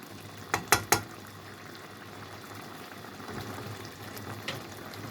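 Water simmering in a cooking pot, a low bubbling hiss with a few sharp clinks early on and a faint pop later, quiet and close with no voices.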